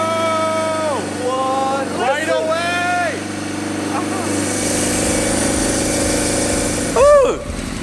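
An old Suzuki motorcycle engine idles steadily with a low, even rumble, while a voice speaks over it and briefly rises near the end.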